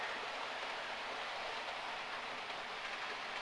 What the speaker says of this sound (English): A very slow freight train.